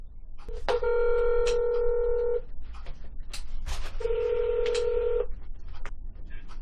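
Telephone keypad dialing tones ring out while someone calls a county district attorney's office in Georgia: two long, loud tone bursts stand out among several shorter beeps, close and clear over a faint background hum.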